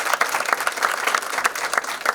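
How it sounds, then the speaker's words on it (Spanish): Loud, lively applause from an audience at a talk on personal branding, with dense clapping and a few sharper claps standing out, with no talking. "un aplauso para ustedes que ya están acá"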